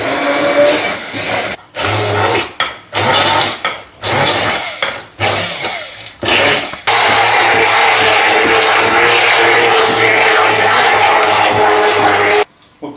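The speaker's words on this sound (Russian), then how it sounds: "Теперь все это хорошенечко превращаем с помощью блендера в такую вот однородную массу." An electric blender whirs through minced meat blended with egg and milk, running in several short bursts before settling into a long continuous steady drone, loud and close with no talking.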